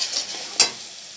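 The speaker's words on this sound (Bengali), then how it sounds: "এইবার মশলাটা আমি একটু কষাবো" Spice paste with salt, turmeric and cumin fries in a pan as it is stirred, a close hiss of sizzling with one sharp scrape of the utensil midway through the short burst.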